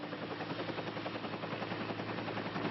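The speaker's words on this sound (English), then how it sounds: "Our helicopter made quick stops to unload food," A relief helicopter delivering food, water and medicine after the 1991 Bangladesh cyclone makes a steady, fast rotor chop with a loud engine roar throughout, nearby and alone.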